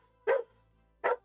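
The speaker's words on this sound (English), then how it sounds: "stop barking." Two sharp, separate barks from a dog in The Sims video game, close and clear against a quiet background.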